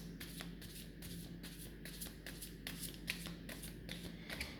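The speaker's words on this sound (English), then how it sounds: "so first I'm going to clear the cards" Tarot cards being shuffled close by before a reading, a continuous soft riffling with repeated flicks and slaps at a steady, brisk rhythm, no talking.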